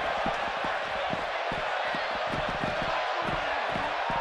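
A large arena crowd in Dallas roars in the WWE 2K17 wrestling video game, a dense continuous crowd noise with rhythmic thuds and slams beating through it.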